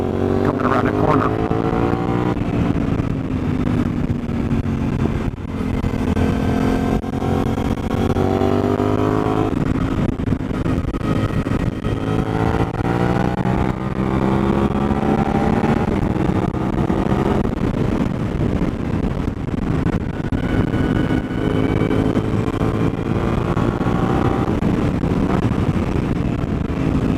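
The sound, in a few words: Suzuki DL-800 motorcycle engine on test ride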